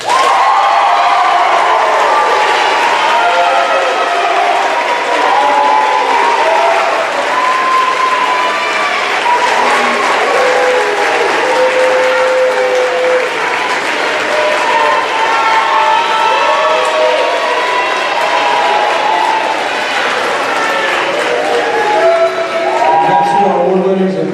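Sustained loud applause with cheering and whoops from an audience at a college athletics awards ceremony, steady and dense throughout with scattered shouts rising above the clapping.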